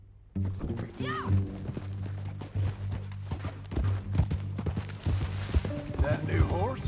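Horse hooves clip-clop at a steady walking pace in Red Dead Redemption 2, close and prominent over a low droning background, with voices talking over the hoofbeats.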